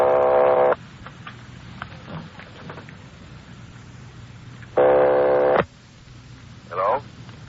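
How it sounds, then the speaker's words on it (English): Telephone ringing a number as a radio drama sound effect, with two loud buzzing rings separated by a long gap, followed by a short burst of voice at the end. "They're ringing the number, Sergeant."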